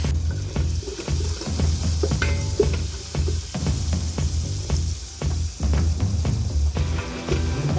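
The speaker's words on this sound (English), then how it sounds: "throw in the onions. Oh, who doesn't love that sound?" Steady loud sizzling of onions frying in hot oil in a pot for lamb shanks, with occasional stirring clatter throughout.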